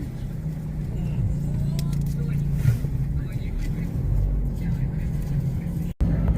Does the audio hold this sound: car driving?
yes